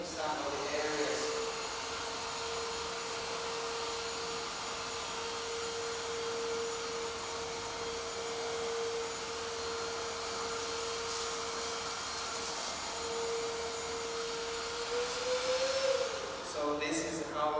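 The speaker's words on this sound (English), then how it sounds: "So this is how we use this vacuum cleaner" INGCO cordless vacuum cleaner running continuously with a steady whining motor hum at an even pitch and faint background noise, then a brief rise in pitch near the end as it winds down.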